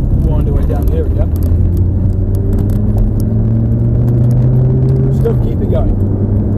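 A Lamborghini engine drones while driving, a low, steady rumble whose tone slowly climbs and shifts, heard up close with a voice talking over it.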